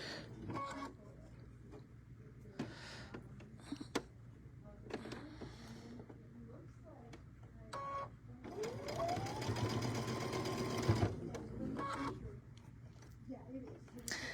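A sewing machine stitching seams on a tabletop quilt banner, running in short bursts and then a longer steady run, with a person talking quietly between the stitching.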